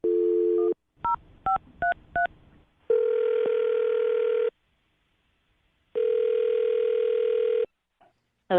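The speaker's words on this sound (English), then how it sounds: "I'm going to dial her phone number right now." A landline telephone gives a steady dial tone, then a quick series of keypad tones as a number is dialed, followed by two long ringback tones separated by silence.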